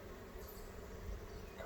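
Honey bees buzz steadily at a weak, dying hive, a continuous close drone of many insects with no pauses, faint and even throughout.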